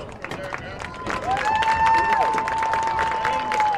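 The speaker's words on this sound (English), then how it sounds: "Please stand and give these two young men a round of applause" A stadium crowd applauds and cheers for football hall of fame inductees at a high school game, steady clapping mixed with shouts and a sustained whistle-like cheer rising through the middle.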